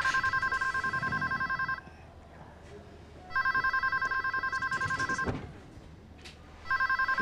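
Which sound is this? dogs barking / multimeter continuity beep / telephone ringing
telephone ringing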